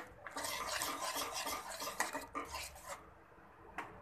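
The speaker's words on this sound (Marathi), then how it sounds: "आणि हे व्यवस्थित आपण मिक्स करून ह्याच्यात घालूया" A spoon stirring yogurt-based okra masala gravy in a pan, a continuous close scraping and swishing that breaks off near the end.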